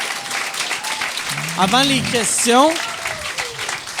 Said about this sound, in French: J'aimerais ça qu'on donne une bonne main d'applaudissement à Jason.